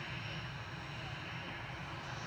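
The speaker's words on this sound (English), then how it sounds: "Next arrival is EasyJet coming in from Lisbon." An EasyJet Airbus A320 inbound from Lisbon arrives at Manchester Airport, heard as a steady, distant jet engine roar that holds level under faint background noise.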